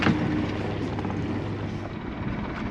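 A biplane passing overhead above the sea near a dive site gives a steady, droning engine rumble that holds evenly throughout, fairly loud and alone with no talk.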